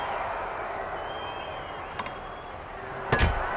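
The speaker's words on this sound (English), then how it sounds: "Ooh, a crushing blow from that sledgehammer." A sledgehammer blow lands in a women's division wrestling match in WWE 2K26, a single sharp impact near the end over steady game ambience, with a lighter click earlier.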